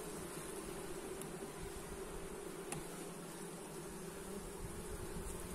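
A colony of honeybees inside an opened hive after honey extraction gives a steady, dense buzz that stays close and fairly quiet, unbroken for the whole stretch.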